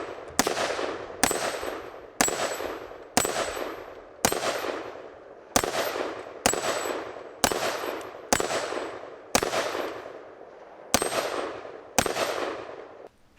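An AR-15 short-barreled rifle chambered in 5.56 fires about a dozen sharp, loud single shots at steel plates on a dueling tree target, each crack followed by a ringing metallic clang, spaced roughly a second apart.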